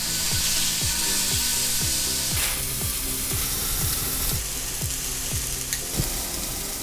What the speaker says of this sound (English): Hear that sear?